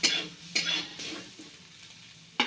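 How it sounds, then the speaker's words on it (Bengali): Mustard greens (rai shak) stirred in a wok, with a few sharp scraping clatters of a spatula against the pan at irregular intervals over a faint sizzle. "সর্ষের শাক ঢাকতে হয় না, কড়াইয়ের উপর নাড়াচাড়া করতে হয়।"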